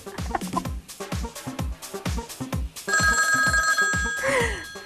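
A telephone bell rings in rapid repeated bursts, then a sustained electronic tone joins in with a short sliding chirp near the end.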